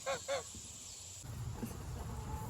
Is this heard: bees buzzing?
no